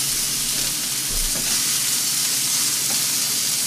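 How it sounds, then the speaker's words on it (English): Green beans sizzle and crackle steadily in a small 6-inch seasoned cast iron skillet, a dense, close frying hiss that continues without pause. "Green beans look like they're sizzling pretty good."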